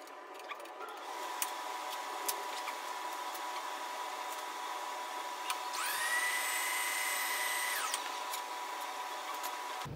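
A German-made Eibenstock electric drill set up for line boring whines at high speed for about two seconds over a steady background hum, with a few faint clicks before it starts.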